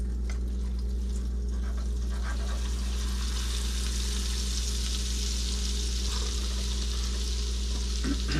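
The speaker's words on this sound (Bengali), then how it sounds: "এভরিথিং ওটা ডিপ ফ্রাই। দেখেন আমি আস্তে করে বিসমিল্লাহ ছেড়ে দিলাম।" Falafel fries in deep oil, giving a steady, close, even sizzle and bubbling that holds unbroken throughout, with no speech.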